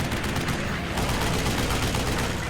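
Rapid bursts of machine-gun fire from a WWII fighter plane in a dogfight over France, dense and continuous, loud and close with a roaring, crackling texture throughout.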